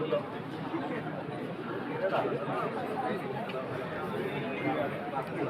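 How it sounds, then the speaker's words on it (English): A huge crowd at an offline hackathon, HackCBS, fills the space with dense, steady chatter and babble, no single voice standing out. "Such a huge crowd."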